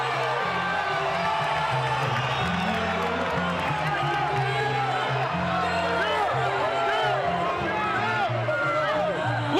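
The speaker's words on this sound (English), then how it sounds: "The crowd is going bonkers." A boxing arena crowd roars and cheers during a title fight, a dense, loud wall of whoops, shouts and babble that swells and never lets up, with a commentator's voice riding over the noise.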